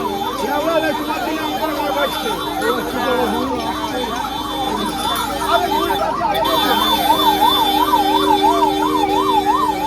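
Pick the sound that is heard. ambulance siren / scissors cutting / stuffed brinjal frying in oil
ambulance siren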